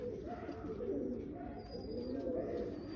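A green-eyed pigeon coos in soft, low repeated calls close by, with faint background chatter and a few thin high tones.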